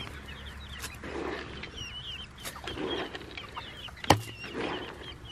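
Black Copper Marans and olive egg layer hens with one rooster, clucking softly in scattered bursts outdoors, with a single sharp, louder call partway through and faint background noise.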